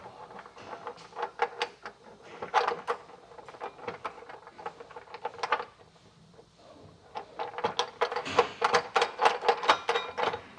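Metal nuts being threaded by hand onto the bolts of an etrailer hitch receiver beneath a 2026 Chevrolet Equinox, a run of small close clicks and scrapes in irregular bursts with a short lull midway, no talking.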